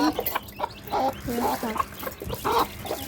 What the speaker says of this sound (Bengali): এখানে আবার মুরগি ছানা আছে, ওদের খিদা লেগেছে, ওদের একটু চাল দিচ্ছি